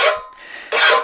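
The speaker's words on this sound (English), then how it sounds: "this file is taking just a bit off" A hand file scraping across a hardened, hand-forged steel horse-head bottle opener, two loud close rasping strokes separated by a quieter drawback, without talk.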